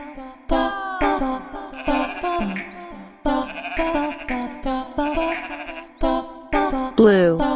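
Cartoon sheep bleat repeatedly in a cheerful colours lesson for toddlers, each loud, wavering call separated by short pauses, with sung or spoken cues between them.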